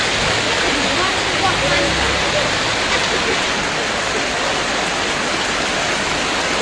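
Heavy rain pours in Darjeeling's Kurseong during a hailstorm, with rising water rushing across the road as a dense, steady roar that holds constant throughout.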